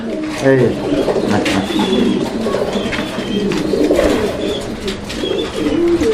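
Pigeons coo repeatedly in soft, throaty rolls close by, layered under someone talking throughout, with faint chirps and cage rustles at a pigeon seller's stall.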